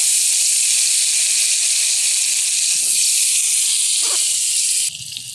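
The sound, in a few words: potatoes frying in oil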